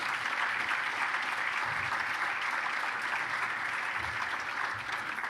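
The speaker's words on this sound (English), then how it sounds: "A round of applause, please." Sustained audience applause fills the room at a sheriff's office jail and police bureau graduation ceremony, steady dense clapping holding evenly throughout.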